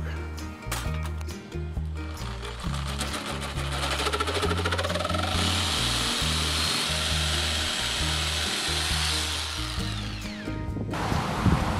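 A Sawzall reciprocating saw cuts through a wooden porch post with a loud, continuous buzzing rasp that holds for most of the span, with a few rattling clicks around the start and the motor winding down at the end.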